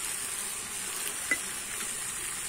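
Fried shrimp stirred into a simmering jackfruit curry in a pan produce a steady, hissing sizzle with one small utensil click partway through. The sound is moderate in level, with no speech.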